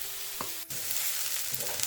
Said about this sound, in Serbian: Dodajemo je u istom tiganju i dinstamo zajedno sa lukom.